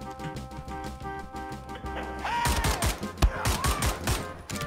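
Pistol gunfire in the shooter game Wolfenstein: The New Order: after quiet music, a run of loud, sharp shots begins, about seven or eight evenly spaced cracks over a couple of seconds, layered with game sound effects.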